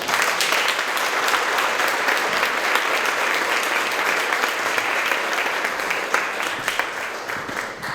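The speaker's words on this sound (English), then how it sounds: "let's give all of you a big round of applause" An audience at a community foundation meeting gives a sustained round of applause, a dense, loud wash of many hands clapping for about eight seconds, tapering slightly at the end.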